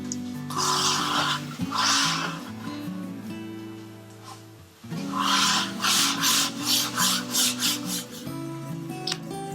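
Hand sanding of a wooden acoustic guitar body before finishing, heard as loud rhythmic rasping strokes in bursts with short pauses, close and alone without speech.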